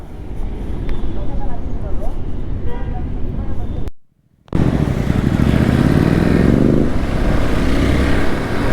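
A Hero Xpulse motorcycle rides along with a loud, steady engine and wind rush, which briefly cuts out and then returns with a rising engine pitch as it accelerates.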